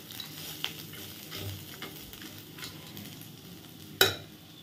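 Phoron spice tempering fries in a pan, a quiet steady sizzle with light stirring scrapes, ending in a sharp metallic clink of a utensil against the pan.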